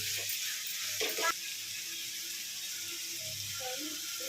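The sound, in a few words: prawns frying in oil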